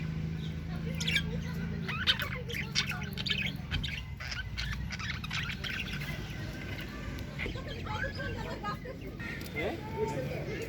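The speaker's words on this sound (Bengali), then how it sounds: "বাজরিগার পাখি আমার এই পাখিগুলো ছিল কত সুন্দর করে গল্প করছে দেখেন" Budgerigars chatter and squawk in a steady mix of chirps and calls, fairly faint, with people talking over them.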